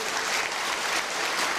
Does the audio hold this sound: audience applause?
yes